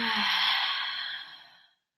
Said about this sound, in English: Breathe in. Breathe out. One more inhale. And let it go.